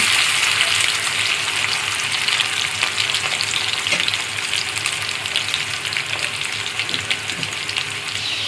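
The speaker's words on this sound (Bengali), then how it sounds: "এখন আমি পেঁয়াজ দিয়ে দেব। পেঁয়াজগুলো হালকা করে ভেজে নেব।" Sliced onions fry in hot oil for a bottle gourd curry, giving a loud, steady hiss and crackle with occasional stirring scrapes, close up and with no voices.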